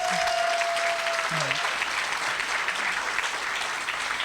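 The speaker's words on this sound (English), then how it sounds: "You need to give him a round of applause." An education event audience gives a steady, dense round of applause, close and loud throughout, with a brief voice or whistle early on.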